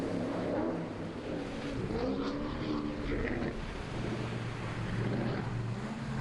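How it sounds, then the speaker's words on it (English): Lucas Oil offshore powerboat on a Silverhook hull, running two supercharged Stirling V8 engines of 700 horsepower each at an ocean race off Malta: a steady, buzzing engine drone with shifting pitch, mixed with wind and water rush. "Lucas Oil, Silverhook hull, 2 supercharged Stirling V8 engines, 700 horsepower each."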